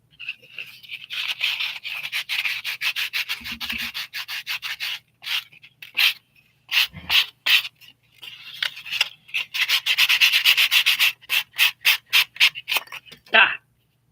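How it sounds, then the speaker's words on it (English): Foam being sanded by hand with 80 grit sandpaper, a close, loud rasping scrub in long steady passes that later break into rapid short back-and-forth strokes, with a brief low voice in between. "sanding foam"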